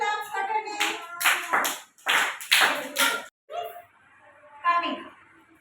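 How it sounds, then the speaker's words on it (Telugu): Young children at an anganwadi clap in short bursts of quick, close applause, with sharp hand claps between stretches of speech. "మీ హాల్కి క్లాప్స్ కొట్టండి"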